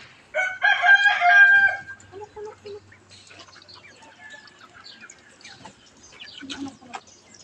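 A rooster crows loudly up close, followed by scattered hen clucks and faint farmyard chatter, with a brief burst of clucking near the end.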